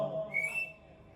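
A sharp whistle rises and slides from somewhere in the audience at a poetry recital during a book fair, heard briefly over a murmuring crowd and room noise.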